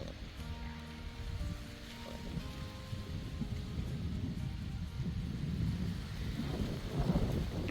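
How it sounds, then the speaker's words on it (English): Strong wind blowing outdoors, a continuous low rumbling roar buffeting the microphone, steady and heavy throughout with slight surges toward the end. "Wind is going to make it really difficult today."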